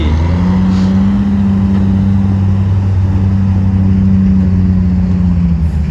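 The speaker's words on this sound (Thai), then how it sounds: "นี่ดูรถพี่โอกันครับ เครื่อง6 SE" A car with a 6SE engine idling loud and close, a steady deep rumble with a faint rise in revs and no talking.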